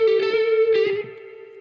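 A single electric guitar note rings out with gain yet a clean tone, wrapped in reverb, sustaining briefly, then fading into a soft tail.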